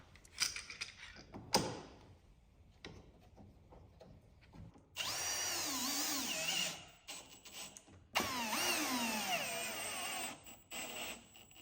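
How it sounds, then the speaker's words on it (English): A cordless drill drives screws through bearers into English walnut box lids in two loud whirring bursts of a few seconds each, pitch sagging as each screw bites, with quiet handling knocks before and between. "I'm screwing the bearers down"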